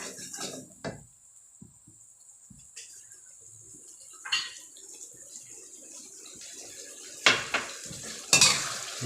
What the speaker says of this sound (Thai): ส่วนผสมทุกอย่างให้เข้ากันค่ะ